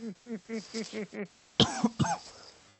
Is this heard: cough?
yes